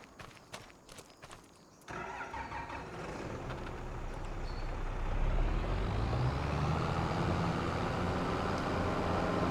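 A tractor engine in the Farming Simulator 25 video game starts after a few brief clicks, then runs with a steady rumble that swells louder and holds at a constant drone.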